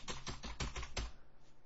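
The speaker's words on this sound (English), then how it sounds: "If I'm using the keyboard, sounds something like this." Quick clacking keystrokes on a computer keyboard, about five or six close, distinct taps in a brief burst, heard alone.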